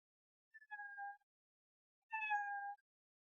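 Two separate cat meows from a Benjamin Bunny cartoon, each a clear drawn-out tonal cry, the second slightly longer, with silence between them and no talking.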